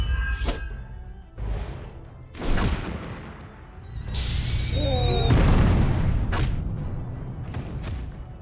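Bombardment in a card video game: heavy booming explosions with crashing, shattering impacts. Loud bursts come in waves over a few seconds, ending in a sustained rumbling roar.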